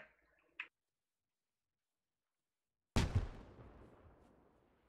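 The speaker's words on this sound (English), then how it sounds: "Nice nade." Grenade explosion in the tactical shooter Squad, a single sharp blast after near silence that decays into a rumbling tail, preceded by a brief faint click.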